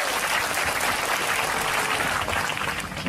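A live audience claps in steady, dense applause at a talk honouring a speaker, loud and continuous for a few seconds, with no voices standing out.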